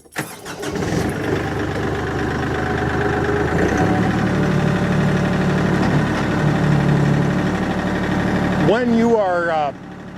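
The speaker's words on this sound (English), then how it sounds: "I have to start the tractor to show you this." A Kioti CK10SE compact tractor engine cranks and starts, then settles into a steady idling drone near the microphone before cutting off at the end.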